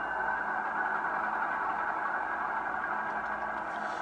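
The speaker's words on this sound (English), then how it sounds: "And we can hear our prime mover." A diesel prime mover from a Tsunami2 TSU-21PNEM8 decoder, set up for an InterMountain Tier 4 locomotive, runs at a steady, fairly quiet idle. It gives an even, continuous rumble with no talk over it.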